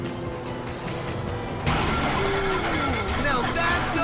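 A failing boat engine in GTA V gives a rough, strained drone that surges louder partway through, with sputtering mechanical noise and whining tones, while voices talk over it.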